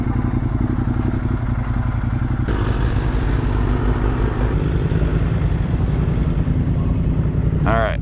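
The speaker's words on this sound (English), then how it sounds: "Aprilia 660 RR. We got a KTM 1290, so we got some pretty fast motorcycles here." A group of motorcycles, including an Aprilia 660 RR and a KTM 1290, rides together, giving a loud, steady engine drone with wind roar. It is heard close from the rider's position and barely changes throughout.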